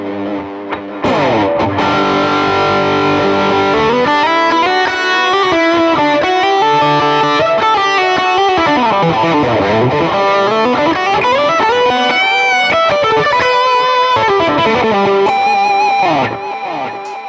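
An electric guitar plays a distorted lead line through an Ableton Live rig using Neural Amp Modeler and a Tone Junkie BC30 model. It plays loud and sustained, with bending, sliding notes and chorus-like effects, and nobody speaks.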